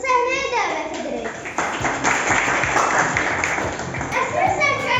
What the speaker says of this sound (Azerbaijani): Alqışlarınızla komandalarımızı səhnəyə dəvət edirik.